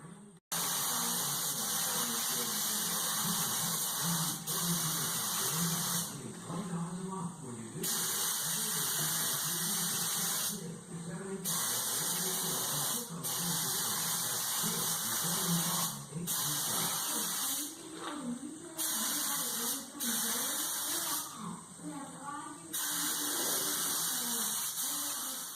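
Repeated bursts of hissing spray from a paint gun laying down a third coat on a 2004 Ford F150 crew cab body off the frame, steady airy spray interrupted by short pauses between passes.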